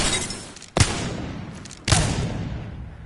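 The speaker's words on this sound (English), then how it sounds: "The Wingman can do significant damage with just a couple of bullets" Two sharp, loud pistol shots from the Wingman handgun in a first-person shooter, about a second apart, each with a booming tail fading over continuous background game noise.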